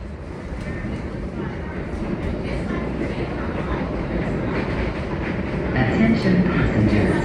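A Philadelphia Broad Street subway train runs steadily underground, a loud continuous rumble and roar of wheels on rail that builds slightly toward the end, heard alone without talk.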